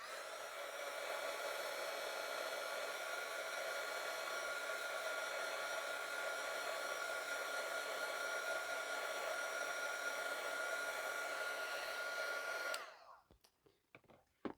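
A hair dryer blows steadily on a craft project for about thirteen seconds, a constant whirring hum with a whistling tone, then switches off, leaving faint handling clicks.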